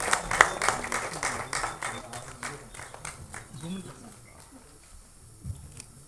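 Audience applause at an album song screening festival, a burst of clapping that starts strong and thins out over a few seconds, leaving quiet room tone with a brief low sound near the end.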